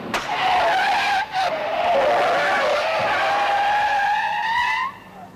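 A 1963 Opel Kadett A braking hard from 100 km/h, its tires skidding in a loud, sustained squeal that wavers in pitch for about five seconds before stopping, with a sharp crack at the start.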